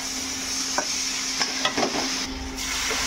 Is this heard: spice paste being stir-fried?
yes